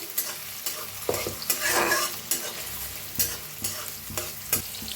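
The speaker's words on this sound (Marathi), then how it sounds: "आता जरा 1 मिनिटभर कांद्याला भाजून घेऊया आपण" Finely chopped onion frying with cumin in a pan, stirred with a spatula: a steady close sizzle broken by repeated rhythmic scrapes and clacks, with a louder burst of hissing in the middle.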